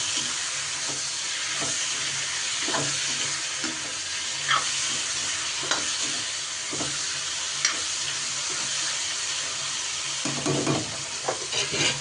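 Onions and tomatoes fry in a pan with a steady sizzle while a spoon scrapes and stirs them in soft clinks and knocks, heard alone with no voices.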